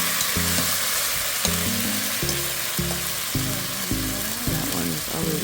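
Oxtail pieces browning in a hot frying pan for a Jamaican-style dish, giving a steady loud sizzle and spatter throughout, with low thumps and shifts as the meat is moved and turned.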